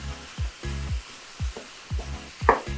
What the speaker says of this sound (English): So we're gonna cook this beef until it's not